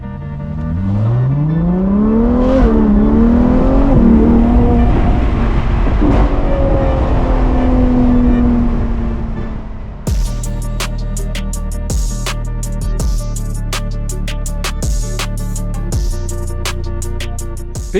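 Ferrari 812 GTS V12 engine on a drive, starting with a loud rising and falling rev, then a steady drone with repeated sharp clicks and knocks, heard up close with no talk.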